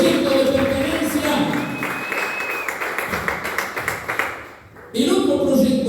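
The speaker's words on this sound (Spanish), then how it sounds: "Dale un aplauso al Señor" A church congregation applauds during a Spanish-language service, a burst of many hands clapping at once that swells over a few seconds and then fades, with a voice speaking over the start and end.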